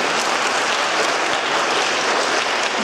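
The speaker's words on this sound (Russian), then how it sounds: "Аплодисменты участникам." An audience applauds participants at an interregional festival-competition, a dense, even wash of clapping that stays loud and unbroken from start to finish with no voices over it.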